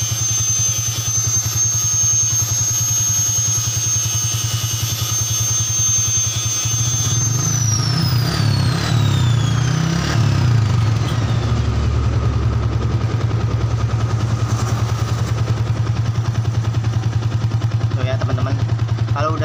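A Yamaha Vixion motorcycle engine with a failing regulator-rectifier runs steadily at idle throughout, then revs up briefly in the middle before settling back, loud and close, with a high electrical whine above it.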